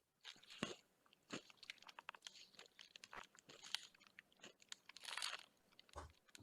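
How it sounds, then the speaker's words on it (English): Someone crunches and chews food close to the microphone, with repeated irregular crisp bites and crackles over several seconds and no talking. "I'm gonna mute you while you crunching"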